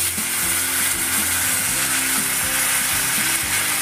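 Snail meat fries with Kashmiri chili in oil, making a loud, constant sizzle close to the pan, with a low rhythmic mechanical hum running underneath and no talking.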